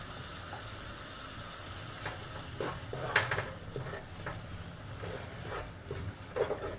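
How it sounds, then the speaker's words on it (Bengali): Yogurt stirred slowly into masala frying in a pan over low gas for Bengali rohu fish curry, with ginger-garlic paste added; a steady close sizzle runs under soft scraping and stirring strokes. "এবার আমি গ্যাসের আঁচটা একদম কমিয়ে দিয়ে দইটা আস্তে আস্তে এর সাথে মিশিয়ে দেব"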